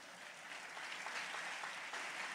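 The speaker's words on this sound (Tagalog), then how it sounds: "Gusto niyo pumalakpak?" Church congregation clapping during a sermon, a soft, distant patter of applause holding steady for a couple of seconds with no voices over it.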